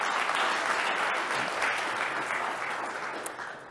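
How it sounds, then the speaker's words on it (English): Sustained audience applause fills a keynote hall at a cloud native community conference, dense steady clapping that holds strong and then slowly fades toward the end. "Please, a loud applause."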